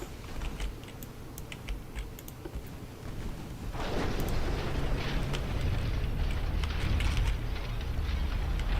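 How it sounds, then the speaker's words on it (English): Torpedo striking a light cruiser in the naval game Ultimate Admiral Dreadnoughts, heard as a sudden swelling rumble of an explosion and churning water that rises midway and holds, over faint ticking clicks. "In your eagerness to launch torpedoes, you nailed the light cruiser."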